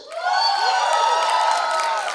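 An audience at the trailer launch of the Amazon original series Guilty Minds cheers and whoops loudly in one sustained burst of crowd noise, with clapping mixed in.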